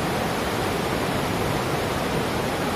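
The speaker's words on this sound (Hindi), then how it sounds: "आवाज सुनी दोस्तों नदी का है, इतना जबरदस्त आवाज और इतना साफ पानी।" A rushing river runs through a valley in Kalimpong near Garubathan, a loud, steady, broadband roar of water with no pauses and no voices over it.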